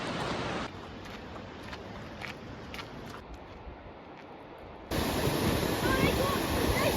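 Rushing water tumbling down rocks near an alpine lake, a loud continuous broadband roar that drops in level briefly, then surges back louder, with faint voices in the background.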